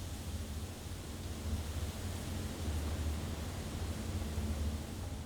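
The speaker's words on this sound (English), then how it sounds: "So it's like a rising white noise and then it goes down again." A soft, hissing wash of white noise in the video game Blue Prince swells and ebbs gently like distant surf, steady and low in level, with no voices.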